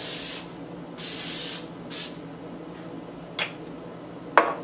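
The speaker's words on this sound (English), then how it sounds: "I'm gonna spray it to make sure that nothing sticks." Cooking spray hisses onto a hot waffle griddle in several short, loud bursts, the first two longest, then a couple of brief faint spritzes, with no voices.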